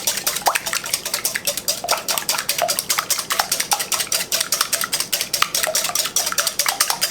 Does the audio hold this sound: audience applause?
no